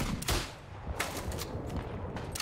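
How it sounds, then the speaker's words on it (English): Mortar shell explosions in the World War I shooter Isonzo, several sharp booming blasts with rumbling tails, loud and close, no talking. "Ooh, mortar."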